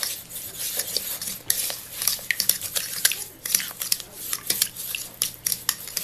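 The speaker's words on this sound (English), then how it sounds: "So we'll whisk this in first." A whisk beating an egg into matcha green tea cake batter, rapid close clinking and scraping against the bowl in an uneven, busy rhythm.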